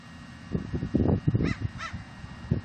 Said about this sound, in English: Oh, I got a bird here looking at me.